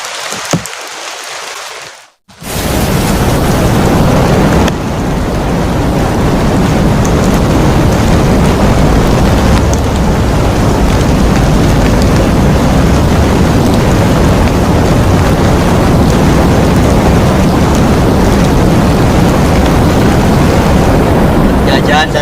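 Heavy rain pours steadily at a rainy campsite, a loud, dense roar that starts after a brief gap and continues unbroken, with a low rumble mixed in that may be distant thunder.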